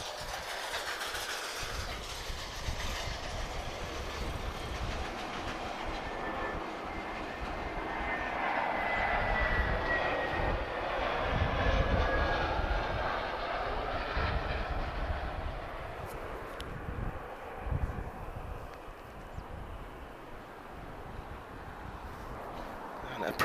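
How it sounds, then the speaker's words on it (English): An EasyJet Switzerland Airbus A320-214 arriving from Geneva touches down at Lisbon Airport, a broad jet roar that swells and then settles, with a falling engine whine and a voice faintly under it. "EasyJet Switzerland guys, uniform 21463, arriving from Geneva, A320-214"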